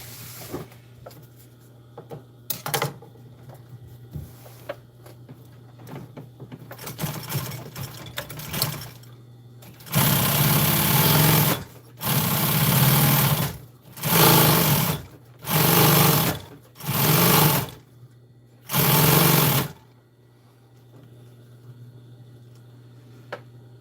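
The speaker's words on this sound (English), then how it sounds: "Let's sew the edge." A sewing machine stitches the edge of a truck storage bag in six loud whirring bursts of one to two seconds each, separated by short pauses, after quieter handling sounds at the start.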